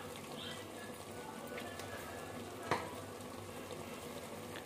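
Spices sizzling with mutton in a pan, turmeric, coriander and chili powder among them: a steady, close frying hiss with one sharp clink of a utensil partway through.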